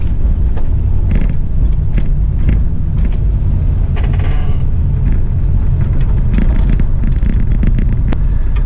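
Cars rolling in a road-trip caravan including an early 1990s Suburban, a 1966 Corvette and a 1985 Grand Wagoneer, heard as a loud, continuous engine and road rumble with a few mechanical clicks and rattles from inside a vehicle.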